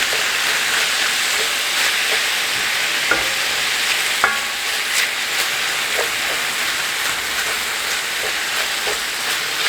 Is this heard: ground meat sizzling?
yes